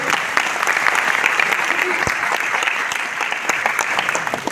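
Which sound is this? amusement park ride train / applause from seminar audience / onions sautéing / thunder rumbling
applause from seminar audience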